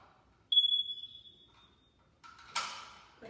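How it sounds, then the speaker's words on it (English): A single high-pitched electronic beep from a smoke alarm sounds once, clear and fairly loud, trailing off over about a second, followed by brief handling clatter. "if it's beeping, to stop the beeping, you want to press the reset button on the top."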